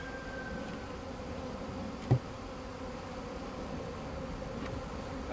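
Package bees buzz in a soft, continuous drone as they are installed in a hive, with one brief knock in the middle and no talking.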